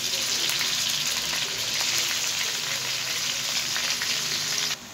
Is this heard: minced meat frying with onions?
yes